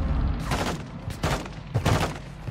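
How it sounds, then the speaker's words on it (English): Gunfire in the video game Call of Duty, three loud rattling bursts of rapid shots with short gaps between them, close and booming. "Bro, they're still shooting. He's shooting at you from the window."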